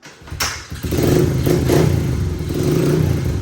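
A small Honda CRF dirt bike, a 70 or 100 with a new air intake and full exhaust and running a little tired, fires up close by, then settles into a loud, steady idle with a rough, clattery engine note.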